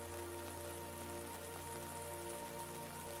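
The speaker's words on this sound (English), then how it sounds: "Outside her window, the rain continues its gentle rhythm. Tap, tap, tap." Gentle rain falls outside a window in a steady, soft patter that holds an even level throughout, with a faint continuous hum beneath it.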